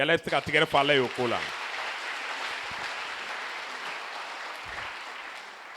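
Church congregation at a Sunday service applauding and acclaiming God, a sustained wash of clapping and cheers that swells after a preacher's voice and then holds steady to the end.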